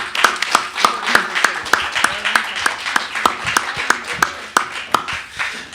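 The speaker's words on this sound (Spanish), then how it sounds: "yo les quiero pedir que le demos un fuerte aplauso a Jenny por este apoyo que nos dio." An audience at an Amnesty International forum gives a round of applause, a clear, rhythmic clapping that rises and fades over several seconds.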